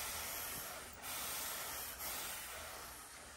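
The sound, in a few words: steam hissing from garment steamer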